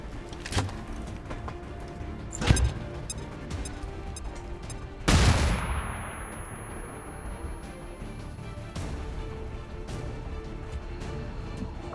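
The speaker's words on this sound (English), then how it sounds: "we're going to get your flashbang in on both of these first" A flashbang grenade detonating in XCOM 2 Long War 2 gives a sharp, loud bang followed by a high ringing tone and a fading wash of noise, with a smaller thud earlier and quiet game ambience throughout.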